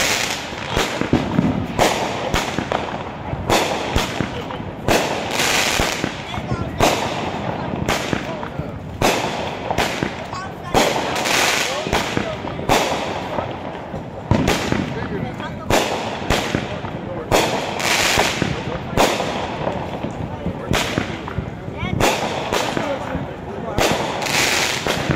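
Rapid bursts of Fourth of July fireworks crackle and pop in dense, irregular volleys, loud and close, with sharp bangs punctuating a continuous sizzling barrage.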